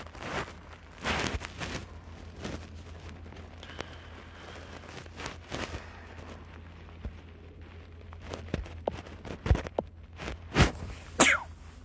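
A single sharp human sneeze indoors bursts out near the end, after quiet shuffling and light handling noises in a room.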